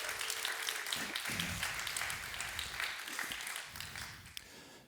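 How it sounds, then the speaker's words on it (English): A conference audience at a Ruby developer gathering applauds the team members, a soft wash of distant clapping that gradually fades, with a faint voice at moments. "so give them a round of applause"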